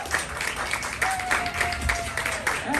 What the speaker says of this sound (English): Let's give a big round of applause for Max Brockman